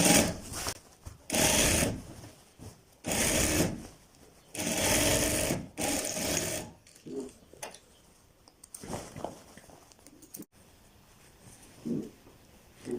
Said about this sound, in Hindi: इस पे भी फ्रेंड्स आप इसी तरह पैर की सिलाई लगा लें।